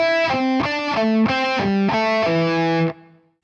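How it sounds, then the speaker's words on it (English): Distorted electric guitar descends through position 1 in a steady picking pattern, five or six bright sustained note groups in a row, loud and up close, ending in a short ringing decay. "we're going to be descending position 1 using a picking pattern that we covered in a previous exercise"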